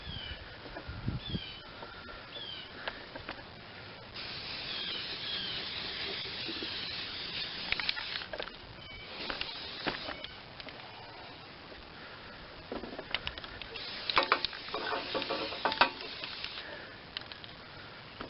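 A spray can of clear coat hisses in several short and longer bursts onto the stickers of an MTD 10hp Tecumseh Snowflite snowblower, with light handling noises between passes.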